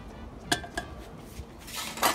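A small metal pot and other cookware being handled: a couple of sharp clinks early on, then clattering knocks and scrapes near the end, all close by with no talking.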